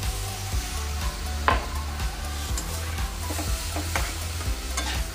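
Milk being stirred into mawa in a warm pan for Mathura peda, with a steady bubbling sizzle and soft scraping stir strokes, fairly close and continuous, with no talking.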